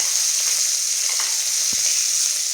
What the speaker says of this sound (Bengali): শুটকি মাছগুলো সব কড়ার মধ্যে দিয়ে দিলাম শুটকি মাছগুলো ভালো করে ভাজবে